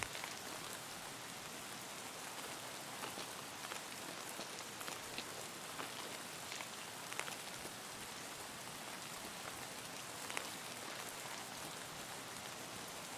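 Steady, soothing rain falls on surfaces in Escape from Tarkov's Shoreline map, a dense even hiss with scattered droplet ticks running unbroken and alone throughout.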